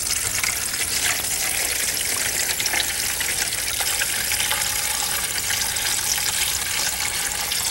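Stream water from an invertebrate survey is poured into a container, giving a steady, close splashing gush with a hissy, bubbling texture that runs without a break and no talk.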